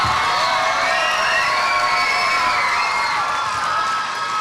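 An audience at a summer camp program erupts in loud cheering, whooping and shouting from many voices, a continuous close crowd roar that holds for several seconds.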